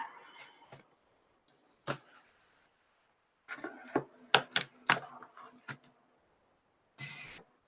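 Fingers tap on a computer keyboard in a quiet room, with scattered bursts of clicking keystrokes separated by pauses, loudest in a cluster near the middle and a final short burst at the end.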